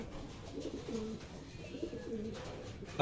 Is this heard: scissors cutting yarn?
no